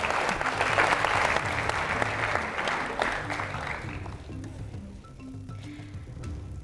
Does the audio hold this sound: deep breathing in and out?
no